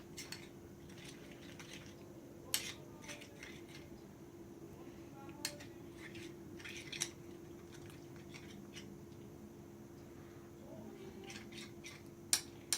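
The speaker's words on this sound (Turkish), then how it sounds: "Ben sizin yakınınızda karıştırıyorum" Homemade slime made with UHU glue being stirred close up: quiet, soft squelching with intermittent sharp clicks and taps of a utensil against the container, scattered irregularly over a faint hum.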